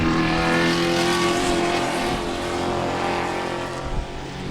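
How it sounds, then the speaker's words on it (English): Spec Corvette race cars race at Sebring with a dense, sustained engine roar as several cars run together, their tones droning and shifting slightly as they pass at a distance. "there's about quite a pretty large group of those Spec Corvettes out there, and those guys are having a heck of a race"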